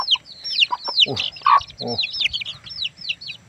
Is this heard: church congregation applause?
no